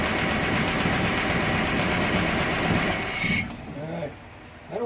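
A 1966 Plymouth Fury engine idles nearby with a steady, rough mechanical chug and hiss, then cuts off near the end, leaving a quiet room where brief voices are heard.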